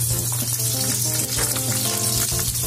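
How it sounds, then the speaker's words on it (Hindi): Sliced onion and green chilli frying in oil with mustard seeds, a loud, dense, continuous sizzle with crackling close up and no voices. "डाल के अच्छे से थोड़ा सा ना हल्के से भून दीजिए, थोड़ा हल्के से ब्राउन कलर होना चाहिए"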